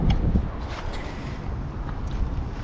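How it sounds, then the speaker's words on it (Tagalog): Strong wind buffets the microphone in a steady, rumbling roar that holds for the whole stretch, with no voices over it. "medyo malakas yung hangin, no?"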